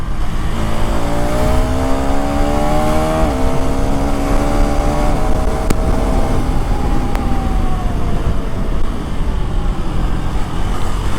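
A new KTM Enduro motorcycle engine runs loud and steady for several seconds, its drone rising and shifting in pitch like revving, with broadband road or wind noise throughout and no talking.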